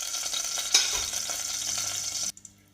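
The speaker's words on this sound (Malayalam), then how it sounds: "ഈ വെളുത്തുള്ളി ഒന്ന് ബ്രൗൺ കളർ ആകുന്നിടം വരെ നമുക്കൊന്ന് മൊരിച്ചെടുക്കാം." Garlic sizzles and fries in hot oil in a pan until brown for chicken soup, a steady close crackle with one brief stir clatter, cutting off abruptly near the end.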